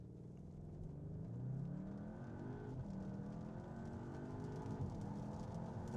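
A 2026 Cupra Leon VZx, a 221 kW front-wheel-drive hot hatch, accelerates hard from 0 to 100 km/h. Its engine note climbs steadily through the gears, with brief dips at each shift, loud and close from inside the cabin.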